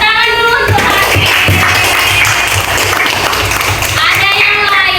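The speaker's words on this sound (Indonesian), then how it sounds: "Tepuk tangan dulu untuk Hamid" Schoolchildren in a classroom clap for a classmate named Hamid, loud and close, with children's voices mixed into the clapping.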